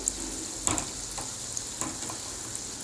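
Mysore bonda frying in oil in a pan at a roadside-style stall, a soft continuous sizzle with faint bubbling and occasional light stirring taps, steady and close.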